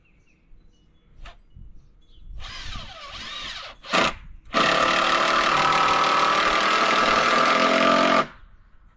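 A power drill drives longer screws into wood while a cold frame is being built. Short bursts and starts come first, then a loud, steady whir runs for several seconds close by before stopping abruptly.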